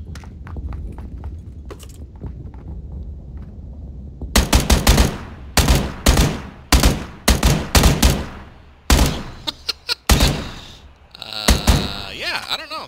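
Gunfire in a battle royale video game with a SAW, starting with faint distant shots, then loud close bursts of rapid shots in uneven clusters, with single shots and metallic thuds mixed in.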